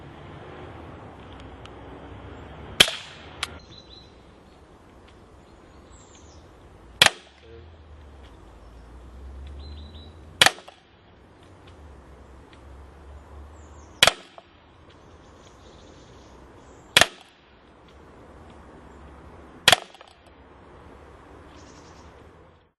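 An Anics Beretta A-9000S CO2 pistol is fired at a target six times, each shot a sharp, close crack spaced a few seconds apart, with quiet handling noise and faint background rumble between shots.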